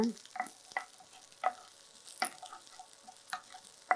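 Asafoetida sautéed in a pan for chutney dosa, heard as faint, sparse taps and scrapes of a spoon against the pan over a soft, quiet sizzle.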